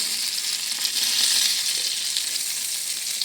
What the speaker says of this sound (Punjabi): ਹੁਣ ਤੁਸੀਂ ਇਹਨੂੰ ਅੱਛੀ ਤਰ੍ਹਾਂ ਕਰਕੇ ਪ੍ਰੈਸ ਤੇ ਇਹਨੂੰ ਕਰ ਸਕਦੇ ਹੋ ਫਰਾਈ ਕਰ ਸਕਦੇ ਹੋ